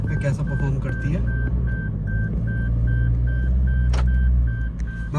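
Toyota Fortuner Legender SUV pulling away from a parking spot in normal drive mode, a steady low engine drone close by, with a repeating electronic beep pulsing over it and someone talking throughout.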